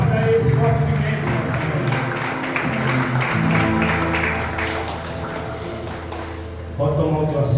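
Sustained applause from a church congregation, a continuous wash of clapping mixed with music that thins briefly near the end before swelling again.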